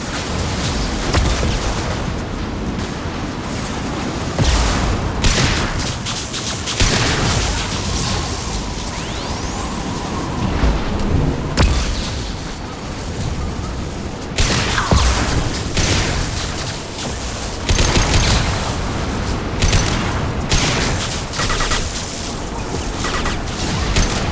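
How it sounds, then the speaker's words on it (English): Flashbang blasts and bursts of gunfire fill a Mass Effect 2 combat scene, loud, dense and continuous, with booms, whooshes and rapid pops layered over one another. "Watch out, flashbangs!"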